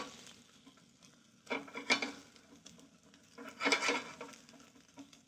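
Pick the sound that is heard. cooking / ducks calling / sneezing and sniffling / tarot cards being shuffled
cooking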